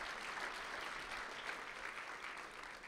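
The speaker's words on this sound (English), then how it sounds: "you can clap for Mayor Parker as often as you want this morning" A brunch audience at an LGBTQ+ Victory Fund event applauding Mayor Parker, steady dense clapping from a large crowd throughout, even and sustained without pauses.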